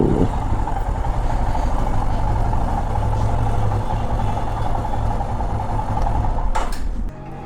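A motorbike engine runs steadily at a low rumbling idle-like level inside a workshop, close and loud throughout, dropping off abruptly near the end.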